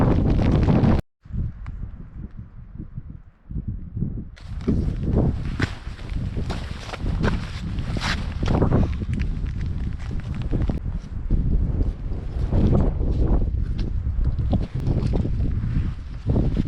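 Wind blows across an exposed mountain ridge in rainy weather, steady and fairly loud after a brief dropout near the start, with rustling and footstep-like crunches beneath it.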